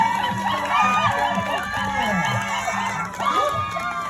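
Spectators cheer and shout encouragement for a triathlete nearing the finish, a busy wash of crowd voices with cries rising over one another throughout and a brief dip near the end.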